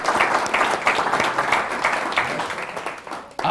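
An audience gives a round of applause at a gathering, dense steady clapping from many hands filling the room for a few seconds before tapering off.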